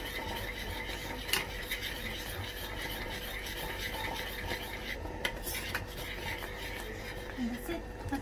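A mixture being stirred in a pot on the stove for a traditional cabbage roll dish, faint scraping and clinking of a utensil against the pot with a couple of sharper knocks, under soft talk.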